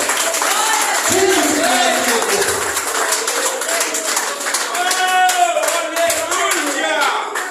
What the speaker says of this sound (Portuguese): vem alegre, aplaude o nome do Senhor Jesus